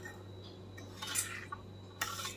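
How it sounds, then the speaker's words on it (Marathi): Spice masala tumbles onto raw mango pieces for pickle, a few short close clinks and rustling pours against a quiet kitchen hum. "आता आपण हा मसाला ह्या फोडींवरती ओतणार आहोत"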